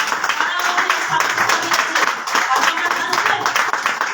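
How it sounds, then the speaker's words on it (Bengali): Audience applause at a live event, a dense, steady patter of many hands clapping throughout, fairly loud, with voices mixed in. "এখন জোরদার হাততালি হোক"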